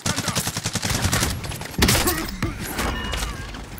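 Rapid automatic gunfire from a shooter video game, a fast burst of sharp shots followed by a heavy thud and scattered further shots, loud and close.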